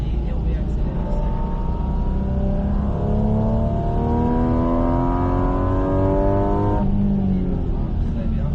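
A car accelerating hard on the Bresse race circuit, the engine rising steadily in pitch as it pulls through the gears, loud and continuous, then easing off near the end, heard from inside with faint talk underneath.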